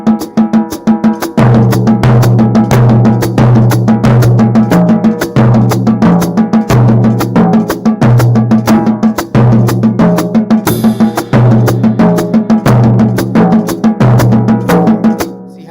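A drum kit plays a loud, dense groove whose phrase begins on the second triplet of the first beat, with sharp repeated hits over ringing cymbals and a steady low pulse, and no voices.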